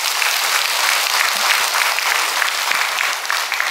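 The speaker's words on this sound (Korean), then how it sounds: "박수하면 얼마나 좋겠어" A congregation at a Sunday church service breaks into applause: a short, full burst of many people clapping at once, loud and continuous throughout, with no speech on top.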